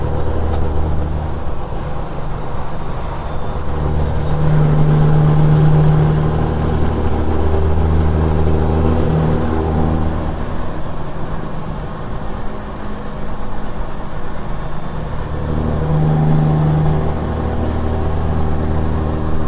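Inside the cab, a truck cruises down the highway in the middle lane with a loud, constant engine drone and road rumble. Faint whines rise and fall over it, and no one speaks.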